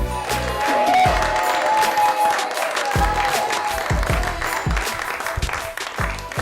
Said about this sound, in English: A big round of applause for your host this evening, Marz Tim.